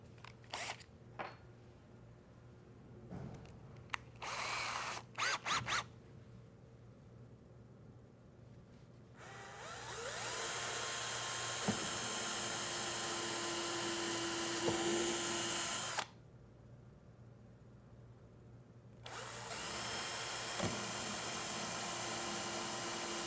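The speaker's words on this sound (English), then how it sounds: "I'm going to drill a hole through the drawer panel into the drawer itself." A power drill whines in two long bursts, separated by a short pause, after scattered clicks and handling noises; close and loud, drilling a pilot hole through a wooden cabinet drawer panel.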